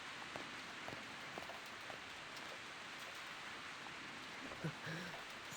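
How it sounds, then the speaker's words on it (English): Steady rain falls outside in a video game set in a hell dimension, a soft continuous hiss with scattered patters and drops that stays quiet and even, with a brief low murmur near the end. "But it's raining out."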